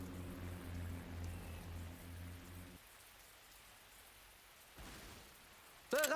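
Steady rain patters on surfaces in a war video game, a dense hiss with a low rumble that thins out midway, ending in a sudden sharp tonal burst.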